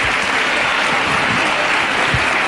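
Loud, dense studio-audience applause fills the whole stretch at a Popstars talent show as the six finalists gather on stage, a steady roar of many hands with no pauses.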